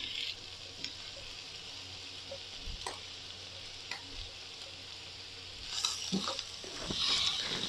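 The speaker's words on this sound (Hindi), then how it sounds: "अब इसमें मैं टमाटर और हरी मिर्चें जो मैंने चॉप की हुई है वो मैं डाल रही हूँ" Chopped tomatoes and green chillies go onto a tawa of frying liver, raising a steady close sizzle with scattered ticks and stirring scrapes, then a louder burst of hissing near the end.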